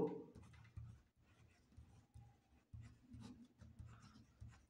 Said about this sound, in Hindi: तो हम लिखेंगे यहाँ पे रुपेश को